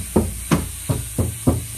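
Five evenly spaced, dull knocks land on a van body panel covered with Noico sound deadening mat. Each thud is short and muffled, close up, with no ringing.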